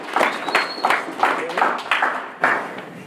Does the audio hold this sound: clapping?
yes